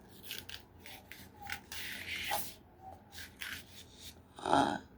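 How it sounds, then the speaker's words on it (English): A vinyl peeler lifts and pulls excess vinyl away, producing soft, close rubbing and scratchy peeling strokes in irregular short bursts, with a slightly sharper scrape near the end. "We could peel the excess vinyl off with these."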